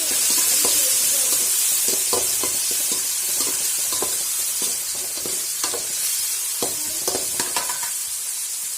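Tomato, onion and garlic fry in a pan, with a constant sizzle broken by frequent close scraping and tapping as a spoon stirs them.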